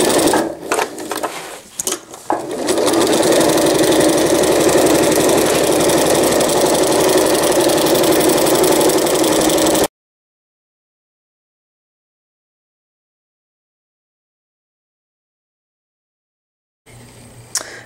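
A domestic sewing machine fitted with a walking foot stitches diaper fabric, a loud steady mechanical whir running continuously for several seconds after a few short starts, then cutting off into silence.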